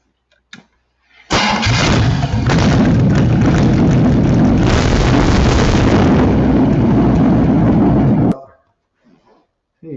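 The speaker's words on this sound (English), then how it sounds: "And so what we're going to do is start the engine," An engine cranks and catches, then runs loudly and steadily at idle for about seven seconds before being shut off, during an oil pressure test with a gauge fitted.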